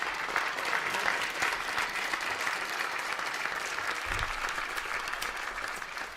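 A crowd breaks into sustained, dense applause at the unveiling of the first-ever image of a black hole. The clapping is loud and steady, with no break for the whole stretch.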